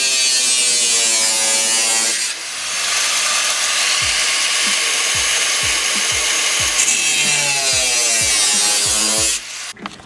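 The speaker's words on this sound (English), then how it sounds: "we're going to use this just to cut little slits in here so we can reach up there and bolt it" A power tool cuts slits in a body panel on a Subaru BRZ, giving a loud, steady high-pitched buzzing grind that dips briefly, resumes with pulsing rasping strokes, and cuts off near the end.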